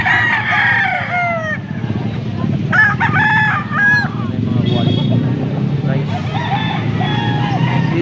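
Several roosters crow in overlapping bursts against a steady murmur of voices and background bustle at a gamefowl market in Angeles, Pampanga.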